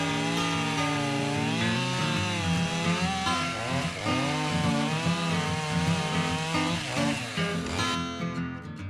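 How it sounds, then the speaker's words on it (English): A Husqvarna 545 chainsaw with a new chain whines steadily as it bites through hard cured maple, its engine pitch wavering under load for several seconds before easing off at the end. "Even with a brand new chain on my favorite chainsaw, once this maple gets cured up, it's awful hard"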